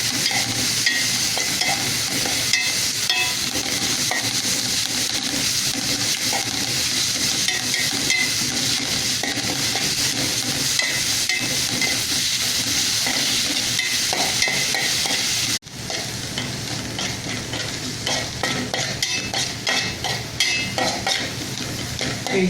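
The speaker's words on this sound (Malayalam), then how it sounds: "ഇഞ്ചി വെളുത്തുള്ളി പച്ചമുളക് സവാള നന്നായിട്ട് വഴങ്ങിട്ടുണ്ട്" Ginger, garlic, green chilli and onion sautéing in a pan for a Malabar chatti pathiri filling: a dense, continuous sizzle with scraping stirs throughout, dropping a little quieter near the end.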